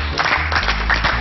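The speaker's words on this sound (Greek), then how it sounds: "Χειροκρότημα." A studio audience on a Greek quiz show bursts into a short, dense patch of clapping.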